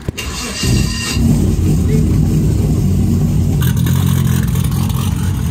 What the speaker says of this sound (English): Change the trans fluid and change the injectors so she sounds nice, and we're about to take her for a spin.